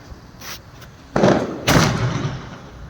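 Diwali firecrackers burst outdoors: a fainter pop comes first, then two loud, close bangs about half a second apart, each trailing off into a brief rumble, with no talking.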